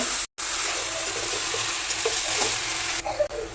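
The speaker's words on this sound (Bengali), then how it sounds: "ভালো করে এটাকে আর কিছুক্ষণ নেড়ে নেড়ে ভেজে নেব" Bottle gourd leaves stir-fried with salt in a hot pan give off a steady, close sizzle with soft stirring scrapes, broken only by a split-second dropout near the start; no one speaks.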